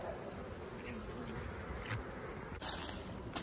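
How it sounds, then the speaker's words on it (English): Honey bees buzz around stacked hive boxes during a hive inspection, a dense, steady drone heard up close without pause and without talk. "Look at all those bees."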